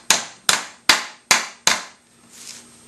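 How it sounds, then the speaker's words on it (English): A hammer strikes metal tabs on a Maytag-Whirlpool washer transmission five times in a quick, even rhythm, each blow sharp and close, followed by a brief faint scrape. "I'm going to do a couple of them with a hammer."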